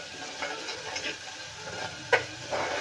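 Green chillies and garlic frying in oil, a soft, close sizzle with light stirring and a sharp tick of a spoon against the pan.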